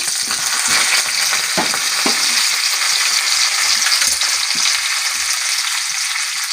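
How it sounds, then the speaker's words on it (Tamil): Chana dal fries in hot oil for a tomato onion chutney, a loud, bright sizzle with crackles and spoon scrapes against the pan, no talking. "கொஞ்சமாக கடலைப்பருப்பு நல்லா கொஞ்சம் பொரிய விட்டு"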